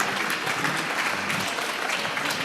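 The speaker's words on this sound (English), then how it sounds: "Let's give a big round of applause to Dato Joey Yap." A large seminar crowd applauds Dato Joey Yap after his feng shui talk, a thick continuous wash of clapping that stays even and loud throughout.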